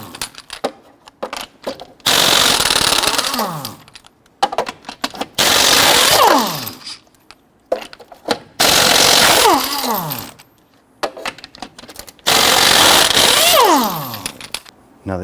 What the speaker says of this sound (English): Using a 22mm socket, you want to go loosen and remove your lug nuts.